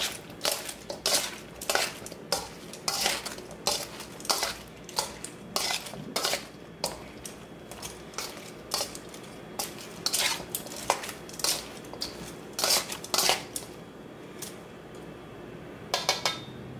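Cauliflower pieces are tossed in a bowl to coat them, giving repeated clattering, rattling bursts with brief pauses between, close and fairly loud with no talking.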